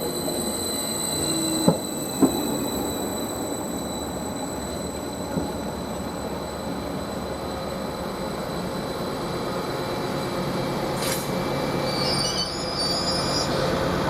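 A Greater Anglia train idles and rolls at Westerfield station with a steady low rumble and a thin high whine throughout, broken by a few clanks and a brief metallic squeal near the end.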